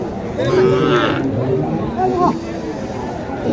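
At the busy Mataji cattle market in Naogaon, a Sahiwal bull lets out short lowing calls amid the babble of traders and nearby chatter.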